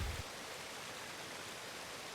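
Running water in waterfall country near Rhayader, heard as a steady, broad hiss of a stream or falls, faint and continuous with no other sounds.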